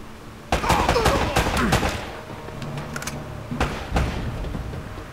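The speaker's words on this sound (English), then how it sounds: "Who the hell's shooting at me now?" Gunfire in the video game Uncharted: Drake's Fortune sounds in several sharp overlapping bursts of shots, loud and close, followed by scattered single cracks and lingering battle noise.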